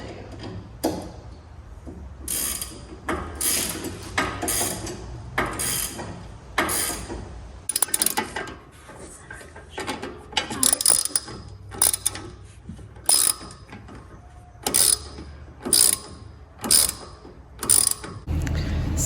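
Ratchet wrench tightening a bolt on a Camaro anti-roll bar end link, with repeated bursts of quick metallic clicking in short strokes, close and loud, separated by brief pauses and mechanical clatter.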